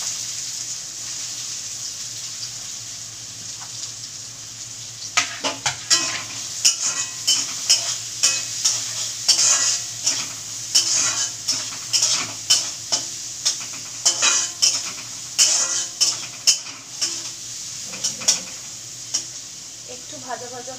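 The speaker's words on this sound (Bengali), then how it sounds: "এই তেলে দিয়ে দেবো পেঁয়াজ কুচি।" Chopped onions sizzle in hot oil for a ghugni, a steady bright hiss that runs throughout, joined about midway by repeated scraping strokes of stirring against the pan.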